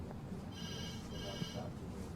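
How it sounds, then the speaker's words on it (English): Telephone ringing inside an upscale bank lobby, two trilling bursts of a bell-like ring heard at moderate distance over steady room noise and low background murmur. "I like the fact the phone's ringing."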